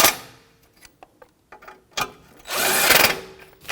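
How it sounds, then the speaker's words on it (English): A socket wrench tightening bracket bolts on a 2007-2017 Jeep Patriot with a 17mm socket, a few close metallic clicks and ratcheting taps, then a half-second buzzing rattle, with no talk. "Now with our 17mm socket, we're going to snug them up."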